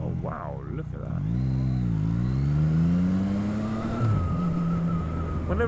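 An old car runs along a road, its engine note rising and shifting steadily and loudly throughout, like a vehicle passing close by, with a voice speaking briefly over it near the start.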